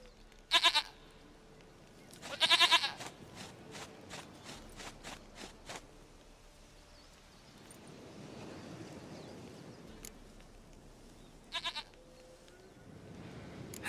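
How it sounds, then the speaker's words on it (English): A goat in The Witcher 3 gives short, moderately loud bleats, a couple early and another later, separated by a soft rustling game ambience. "Goat of mine, dearest, sweetest goat."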